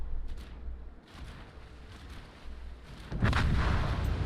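Torpedo explosions in a naval warfare video game, a series of deep rumbling booms with a heavier, louder blast near the end, no talking.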